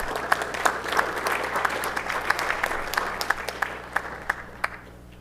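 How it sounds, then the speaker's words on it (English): A crowd claps steadily at moderate volume at a city council meeting, with a few sharp individual claps standing out, then the applause fades away near the end. "Let's give a round of applause"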